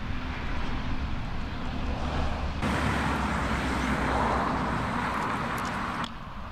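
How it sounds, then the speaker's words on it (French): A car or truck passes outdoors, caught by a microphone as a steady broadband road rumble that swells noticeably partway through and then eases off, with no voices. "attention on va entendre le bruit d'une voiture"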